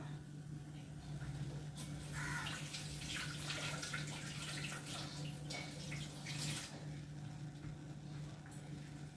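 Running tap water splashes steadily at low level as boondi laddu utensils are rinsed, with a constant hum underneath and faint intermittent clatter.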